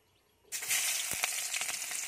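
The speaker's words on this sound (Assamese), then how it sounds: "প্ৰথমতে আমি পিঁয়াজখিনি ঢালি দিম।" Onions tipped into hot oil for a mixed masala vegetable dish burst into a loud, bright sizzle after a brief quiet moment, then keep frying with a dense, crackling hiss and small pops.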